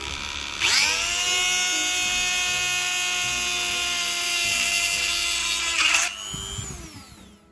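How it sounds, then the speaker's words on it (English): A high-pitched power drill whines steadily for about five seconds while drilling a hole in a car grab handle mount, then spins down as it stops. "So the easiest way is drill a hole here"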